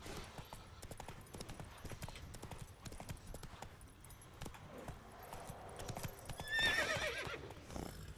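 Horse hooves clip-clop at a steady gallop in The Witcher 3, a game mount called the Stallion of Nightmare, with a sharp whinny near the end over faint game ambience.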